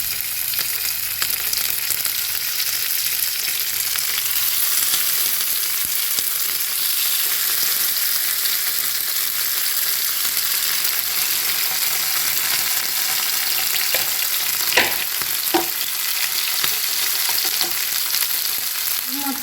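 Sardines coated in green masala sizzle steadily in a non-stick pan over lowered heat, a continuous bright frying hiss with a few soft clinks and stirring sounds near the end.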